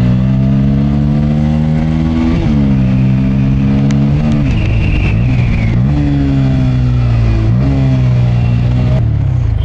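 A motorcycle exhaust revs repeatedly, the engine pitch rising and falling in several loud throttle blips close by, with no one speaking.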